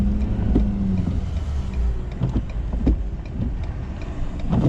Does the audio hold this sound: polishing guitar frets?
no